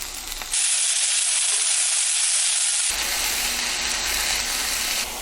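Bean sprouts and beef stir-frying over high heat in a hot pan, a loud steady sizzling hiss that surges in the middle and carries on strongly to the end, with no one speaking.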